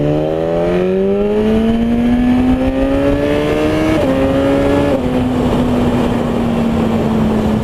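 A BMW S1000 RR sport motorcycle accelerates hard, its engine note climbing steadily in pitch through two quick gear shifts before settling into a loud, sustained drone close to the rider.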